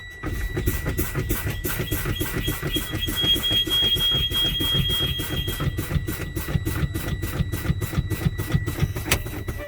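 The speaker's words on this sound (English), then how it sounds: "The low air pressure indicator and buzzer came on, it properly worked." A truck's low air pressure warning buzzer drones continuously inside the cab, its rapid even beeps sitting over a low engine idle.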